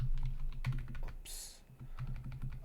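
Quick keystrokes on a computer keyboard enter a terminal command while setting up a Raspberry Pi 5, a close, quiet patter of clicks in short uneven bursts with a brief hiss partway through.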